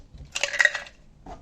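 Children's forks and spoons from a pastel 28-piece tableware set clink lightly as they are unboxed, a short cluster of close, bright metallic-sounding taps followed by a faint rustle.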